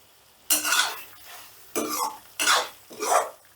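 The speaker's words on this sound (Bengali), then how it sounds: "কাসৌরি মেথিটা দিয়েও একটু নাড়াচাড়া করে নিচ্ছি" Spiced masala for an okra curry stirred in a pan after kasuri methi goes in, four separate bursts of scraping and gentle sizzle with short quiet gaps between, close up and without talk.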